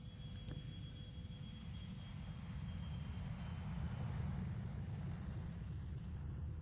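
An airplane's jet engine roars during a test flight, a steady, fairly distant drone that swells slightly toward the end, with no voices.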